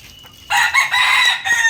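A rooster crows loudly and close by at a backyard chicken farm. The single strong crow begins about halfway through after a faint lead-in and carries on to the end, with no talking.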